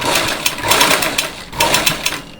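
A sewing machine runs fast, backstitching blouse fabric along a hook-and-eye strip: a loud, close, rhythmic whirring clatter that surges and eases in short runs, with no talking.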